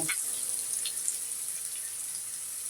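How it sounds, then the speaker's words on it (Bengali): Onions frying in a pan until browned make a steady, soft, hissing sizzle close by, even and unbroken, with no one speaking. "পেঁয়াজটা ভালো করে ভেজে নিব লাল লাল করে"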